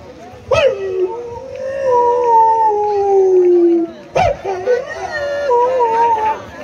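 A stage magician's voice imitates a dog howling at a village show: two long, wavering howls that slide downward, each opening with a sharp yelp, loud and close with no other sound around them.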